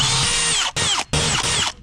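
A power drill bores into a fiberglass pool shell, loud and close, with a high whining grind broken by two brief pauses between bursts.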